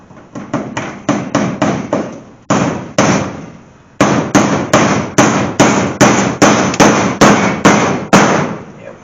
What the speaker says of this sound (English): Go ahead and put a staple in there, make it a little better.